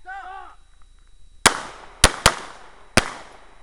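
Four sharp gunshots fired at hostage targets during a shooting drill, the first alone and then two close together and one more, loud and near with short echoing tails.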